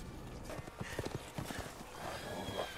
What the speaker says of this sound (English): Why are they on horses?